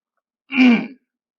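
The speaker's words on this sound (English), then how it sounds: "Sorry about that cough there." A single short, breathy cough bursts out once at close range and then stops, heard alone with no talking around it.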